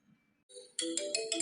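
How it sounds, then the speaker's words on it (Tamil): A phone ringtone chimes in a cartoon animation, a bright electronic melody of short repeated tones that starts softly and quickly gets louder, with no speech. "சரி இன்னொரு தடவை ஃபோன் பண்ணுவோம்."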